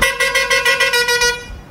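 Vehicle horns in busy town traffic in Nepal, a rapid series of about eight sharp honks followed by a longer one, loud and close.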